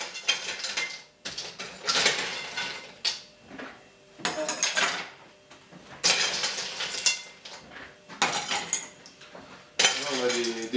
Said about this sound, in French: On ajoute la glace.